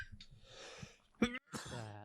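A single sharp cough bursts out, close and loud, between stretches of quiet talking.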